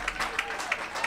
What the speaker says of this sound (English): Let's give a big round of applause to all of our seniors this year